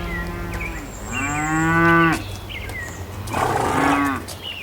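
Cows mooing on a farm, two loud, drawn-out close calls separated by a short pause, with a lower overlapping moo from another animal and no talk.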